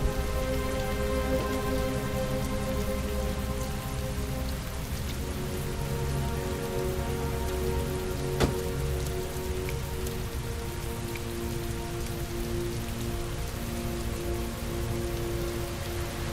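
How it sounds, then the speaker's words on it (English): Heavy rain pours down steadily, a loud, continuous wash of drumming drops on surfaces that holds unbroken throughout with no voices. "Heavy rain."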